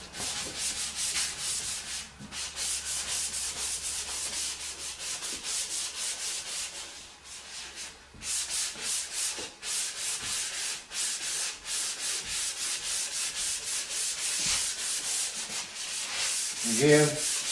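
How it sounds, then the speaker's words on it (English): Sanding block rubbing back and forth across a 2004 Honda Civic body panel in a cross-hatch pattern, a steady close rasping scrape in rapid rhythmic strokes that runs continuously with only brief pauses, with no talking. "Again, sand both ways."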